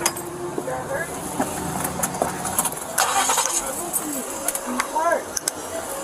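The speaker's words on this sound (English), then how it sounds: "Go ahead and turn the car on" Car engine starting inside a vehicle during a police stop, a cranking whir and catch amid rustling and clicks, with people talking over it.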